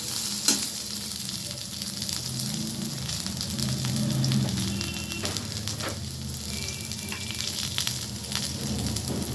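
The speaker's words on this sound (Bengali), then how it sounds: "ডাঁটা আর আলুগুলো আমি ভালোভাবে ভেজে নিলাম" Drumstick (moringa) and potato pieces fry steadily in hot oil in a pan, a dense continuous sizzle and crackle with occasional stirring scrapes, close and even throughout.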